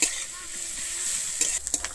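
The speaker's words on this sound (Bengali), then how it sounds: "আমি পেঁয়াজ আর কাঁচা লঙ্কাটা এবারে খুব ভালোভাবে ভেজে নেব।" Onion and green chilli fry in a pan with a steady sizzle, broken near the end by a few sharp stirring scrapes and clinks.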